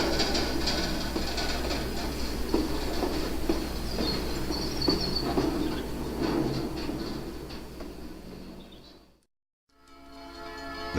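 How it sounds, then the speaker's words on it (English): A loaded unit coal train drifts downhill toward Kingsport, rolling steadily on its rails with a continuous low rumble and faint wheel clatter, then drops briefly to near silence before the rumble resumes. "After crossing over the summit, the train is seen here drifting down towards Kingsport."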